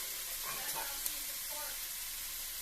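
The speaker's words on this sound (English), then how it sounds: "Alright, the ground beef is cooked. We're going to reintroduce the peppers and onions." Ground pork fries with peppers and onions in a pan, giving a steady, soft hiss of sizzling with faint stirring scrapes, close by and continuous.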